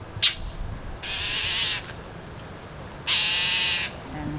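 A garden bird gives two loud, harsh, drawn-out calls close by, each lasting under a second, separated by a quiet gap and preceded by a brief sharp chirp, with a cat nearby.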